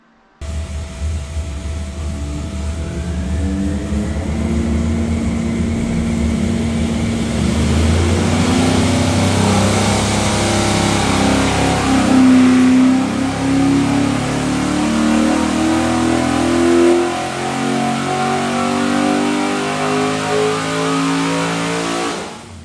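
A powerful stack-injected Boss 9 V8 engine roars close up and revs repeatedly, climbing and falling with a rough, throaty growl, and then it settles and shuts off.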